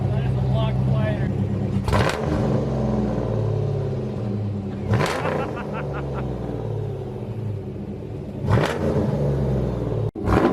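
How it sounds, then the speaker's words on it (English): A 1988 Ford Mustang with a newly fitted exhaust resonator rumbles deep and steady, with a few short rev bursts rising above the low drone while people talk over it nearby. "Sounds really good. Good sounding exhaust."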